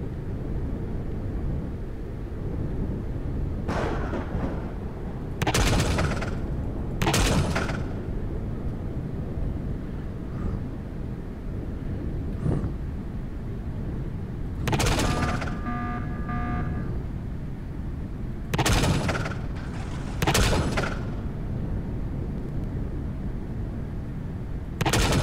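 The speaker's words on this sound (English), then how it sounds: "I have no idea how those drones are handling all those rail gunshots." Rail gun shots fired against drones in an air-combat video game: a series of sharp, loud broadband blasts, several spaced a few seconds apart over a constant rumbling engine drone.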